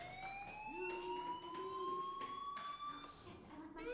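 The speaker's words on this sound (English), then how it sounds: "do you hear that fire alarm? That means you should be outside." A fire alarm rings steadily inside a school building in the video game Life is Strange, a continuous high electronic tone with faint voices under it.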